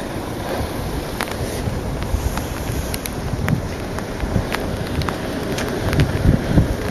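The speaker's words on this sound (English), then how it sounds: "it's absolutely pouring rain" Heavy rain pours steadily with wind, a dense hiss dotted with sharp drip and splash ticks, continuous and close throughout.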